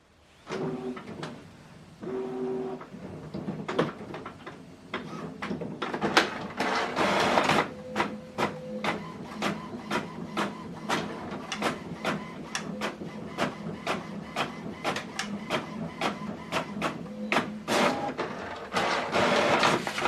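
An HP Envy Inspire printer prints a document, starting with a few soft motor whirs, then settling into a rapid, regular clicking and ticking rhythm of the print head and paper feed, close and clear.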